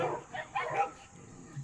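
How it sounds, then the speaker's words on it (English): Puppies next door bark in a couple of quick, moderately loud yips, brief and slightly distant. "the puppies are out."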